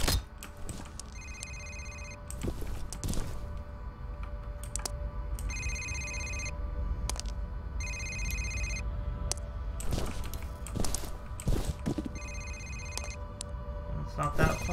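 Telephone in the F.E.A.R. video game rings in repeated bursts, each a bright electronic trill lasting about a second, recurring through the scene over a steady hum of ambient game noise and occasional thuds.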